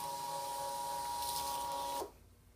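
An electronic cutting machine scans a pumpkin design for heat transfer vinyl with a steady motorized whir and tonal hum that holds for about two seconds, then cuts off abruptly into quiet.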